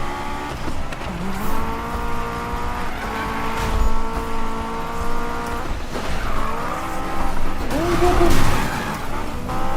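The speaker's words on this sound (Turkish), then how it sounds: "Çok berbat drift atıyorum şu anda." A Honda S2000 in the Need for Speed racing game played with a Logitech G27 wheel, drifting with continuous tire squeal and skidding over a loud revving engine, the screech rising and sliding in pitch throughout.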